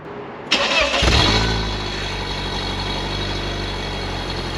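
A BMW Z3's engine cranks and catches with a loud burst, then settles into a steady, even idle.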